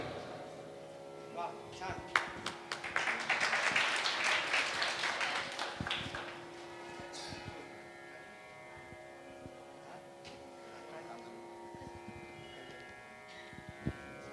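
Audience applause at an evening classical music festival on a cold night, a burst of clapping swelling for a few seconds and then fading, with speech around it.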